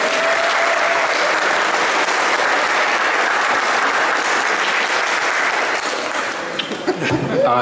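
A crowd at the reopening of the Museum of Dufferin claps in dense, sustained applause with a few chuckles, fading slightly at the end as a voice begins.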